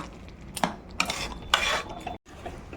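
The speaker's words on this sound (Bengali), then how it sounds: "এবার আর একটু হালকা নেড়ে দিচ্ছি তো এইভাবে এবার কিছুক্ষণ পর পর নাড়তে হবে" Pushpanna, a sweet rice offering, being stirred in a pot with a spoon, three or four distinct scraping strokes with light clinks over a low sizzle and a brief silent gap, no talking.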